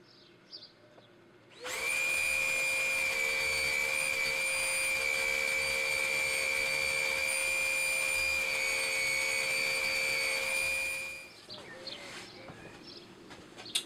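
Power sander grinding dried glue off a handmade wooden vinyl record rack, a steady high whine with strong harmonic tones that starts abruptly, runs loud and unbroken for about ten seconds, then cuts off.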